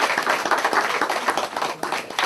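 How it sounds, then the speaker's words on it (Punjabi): A crowd claps loudly for a guest at the Sang Dhesian picnic in Toronto in 2010, with dense, steady applause that carries on without a break and a faint voice mixed in. "ਇਹਨਾਂ ਲਈ ਜ਼ੋਰਦਾਰ ਤਾੜੀਆਂ।"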